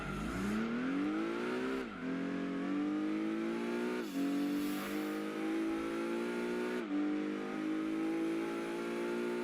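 Toyota Supra in Gran Turismo 2 revving hard through its gears, the engine note climbing steadily, dropping at each upshift near 2, 4 and 7 seconds, then climbing again, loud and continuous with no talk.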